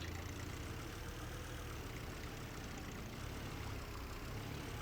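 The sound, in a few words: vehicle engine running after start in Titan Chaser video game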